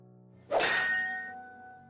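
A heavy chair is smashed against a door in a single sharp impact, which rings out into a long metallic clang and fades slowly in an otherwise silent space.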